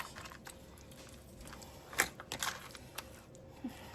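Bailey the dog chews a piece of breadcrumb on the floor: a few short, faint crunchy bites and smacks close by, scattered over a quiet background.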